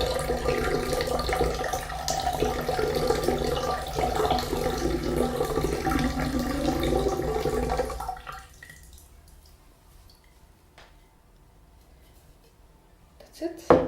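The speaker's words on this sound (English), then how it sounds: "And now we gently add this culture on top of the water without stirring." Liquid culture poured gently onto water, a continuous splashing trickle for about eight seconds that stops abruptly, leaving near silence with a few faint clicks and a small knock at the end.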